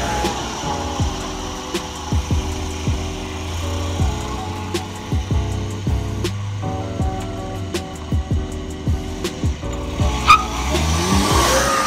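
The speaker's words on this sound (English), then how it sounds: "First, I gotta move the car so that I can get every tire on without having to move it another time" A VW Beetle being moved for a 20-inch forged wheel fitting: engine tones rise and fall through the clip, with repeated sharp squeaks and clicks over a steady low drone, fairly close, with no talking.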